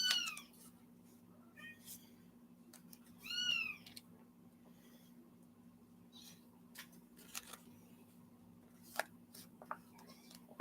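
A kitten gives a couple of short meows, the clearest near the start and a few seconds in, amid faint scattered clicks and rustles over a steady low hum.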